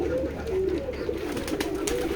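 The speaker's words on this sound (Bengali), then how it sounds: "দেখতে পাচ্ছেন আমাদের খামারে অনেক সুন্দর সুন্দর কবুতর" Pigeons on a farm in a Bangladeshi village coo steadily in low, throaty murmurs, several birds overlapping close by in a continuous soft chorus.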